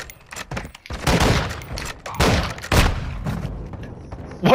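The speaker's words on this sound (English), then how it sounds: "What is this shotgun?" Repeated loud shotgun blasts in the video game Call of Duty: Modern Warfare II, several booming shots spaced about a second apart with ringing tails, close and dominant over game ambience.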